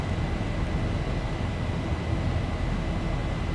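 Steady broadband roar of a Boeing 737-800 airliner in flight, simulated in X-Plane 11, a constant engine and air rush with no breaks, fairly loud and alone.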